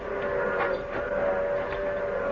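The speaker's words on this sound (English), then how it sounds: "The train's coming." Steam locomotive approaching on the prairie in an old-time Western radio drama, its steady whistle tone sustained over a broad rumbling rush of moving train, continuous and fairly loud with no voices.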